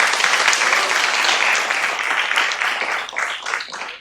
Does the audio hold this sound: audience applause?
yes